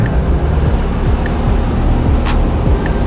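A Cessna Skyhawk engine roars steadily at full power during the takeoff roll on runway 32, a dense, continuous close-up drone with no break and no talk.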